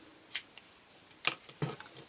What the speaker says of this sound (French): Avec des ciseaux qui coupent bien